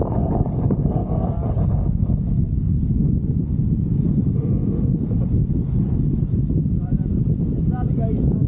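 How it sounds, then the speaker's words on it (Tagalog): Strong wind on a mountain trail at Mount Kinapuin buffets the microphone in a loud, continuous rumbling roar, with a muffled voice faintly underneath. "Grabe guys, ang lakas ng hangin."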